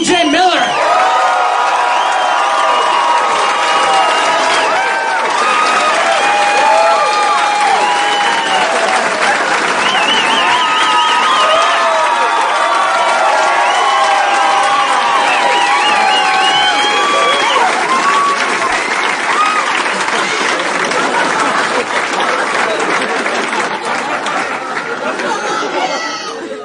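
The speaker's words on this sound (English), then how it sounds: "make some noise for the one and only TJ Miller" A San Francisco comedy crowd roars with sustained applause, whoops and cheers for comedian TJ Miller, loud and dense throughout with scattered shouts and chatter, fading slightly at the end.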